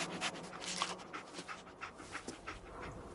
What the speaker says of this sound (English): Dog meat. Get the scent, boy.